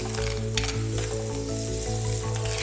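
Curry leaves sautéing in a pan for a spicy fish curry, a steady close sizzle and crackle with faint stirring, but a strong tonal hum persists throughout.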